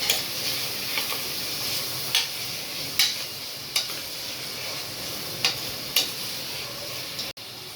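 Mint and coriander leaves sauté in a pan for egg biryani, a soft steady sizzle broken by a series of sharp, evenly spaced ticking scrapes of a spoon stirring against the pan, with no talking.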